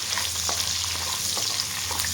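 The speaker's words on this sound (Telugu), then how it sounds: "ఇప్పుడు ఆనియన్స్ వేసుకుందాం. వేసుకొని కూడా కొంచెం గోల్డెన్ కలర్లోకి వచ్చేంత వరకు వేయించుకోవాలి." Onions and green chillies frying in a pan, a steady close hiss of sizzling oil with faint scrapes of stirring running throughout.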